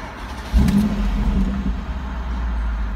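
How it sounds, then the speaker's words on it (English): A Mercedes G63 engine starts with a quick crank, then settles into a steady low idle rumble, close and moderately loud, with no talking. "Start the car up."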